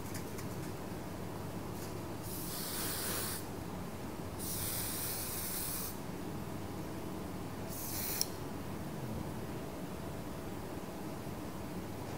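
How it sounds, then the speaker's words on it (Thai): Hair spray misted onto a person's head from about 15 cm away: three or four separate hissing bursts of a second or so each, close and fairly loud, with a short click between them and no talking. "ฉีดให้ห่างจากศีรษะประมาณสัก15เซนติเมตรเนี่ยไม่ต้องฉีดใกล้มากเดี๋ยวจะกลายเป็นก้อนนะคะ"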